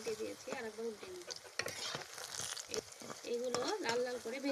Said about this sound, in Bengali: এবারে গোল গোল করে কুপ্তাগুলোকে ভেজে নেব